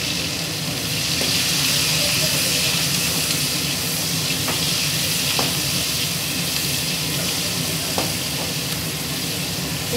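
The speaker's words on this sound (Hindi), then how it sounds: "उसमें हम अब प्याज डाल रहे हैं।" Onions sautéing in a pan with white and black cumin seeds for prawn khichdi: a steady, dense sizzle and crackle with a few faint clinks, close and continuous, no talking.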